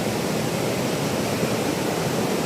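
Roaring waterfalls among apple orchards give off a steady, dense rush of water that stays loud and unbroken throughout, with no voices over it.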